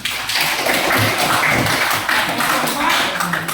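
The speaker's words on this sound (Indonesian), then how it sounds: "Bagus, kasih tepuk tangan" Classroom clapping for a student presentation at an Islamic university in Bukittinggi, a dense, steady patter of many hands filling the room at close range for several seconds, with no voices over it.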